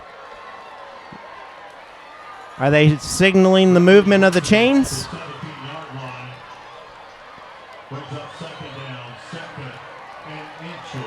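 A Joplin high school football crowd cheers and roars loudly for a few seconds during a varsity game against Webb City, then settles back to a murmur with scattered shouts, while an announcer talks over it.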